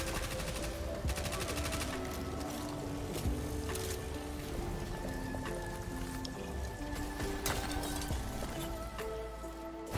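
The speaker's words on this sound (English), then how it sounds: "Are you using an SMG?" Steady rattling bursts of SMG fire from the Destiny video game run throughout, mixed with in-game effects and a droning tone, fairly loud and continuous.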